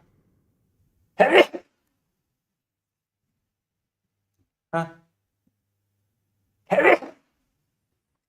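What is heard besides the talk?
two sneezes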